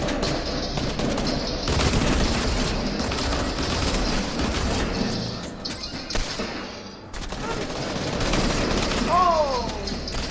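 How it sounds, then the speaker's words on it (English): Gunfire in the video game Fortnite: dense, continuous bursts of shooting and booms fill the scene throughout, with voices talking over the action and a brief lull before the firing picks up again. "They finna be shooting, y'all better reload."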